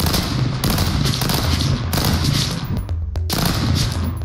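Rapid gunfire in Stick Fight: The Game, a dense run of loud close shots in quick bursts with short gaps between volleys.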